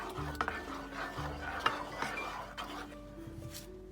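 Blended mango pudding mixture being stirred in a bowl, a continuous soft scraping and swishing with a few light knocks of the utensil, with faint tones in the background.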